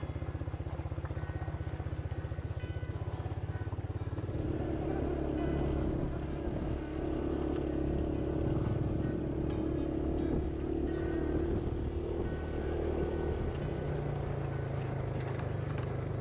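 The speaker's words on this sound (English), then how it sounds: "we took a 40-minute motorcycle ride to the base of the mountain" Motorcycle ride toward the base of a mountain, with a steady low engine drone and road rumble running throughout, continuous and close with small bumps and rattles.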